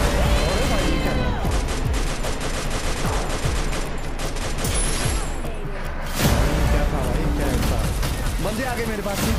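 M249 machine gun fire in a PC shooter game, loud sustained bursts of rapid automatic shots at close range, mixed with booms and other game sounds.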